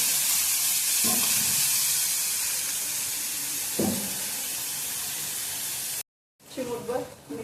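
Chopped tomato and onion sauté in hot oil, giving a steady broadband sizzle with a couple of brief stirring scrapes, then a short cut before a voice speaks over renewed frying.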